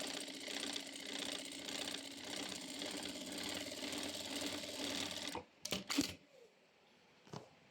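An embroidery sewing machine stitches a pattern with a steady, fast needle clatter for about five seconds, then stops, leaving a few scattered clicks and knocks close by.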